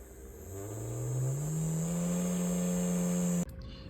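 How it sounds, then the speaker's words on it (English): A small electric motor driven by PWM speed control for an embedded systems project whirs up in pitch as it accelerates, then holds a steady loud hum before cutting off abruptly near the end. "I'm controlling a digital motor using the pulse width"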